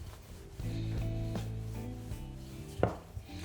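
Tart pastry dough rolled out gradually on a floured work surface for a lemon and yuzu tart, a soft low rubbing and rolling sound, fairly quiet and close, with a brief knock near the end.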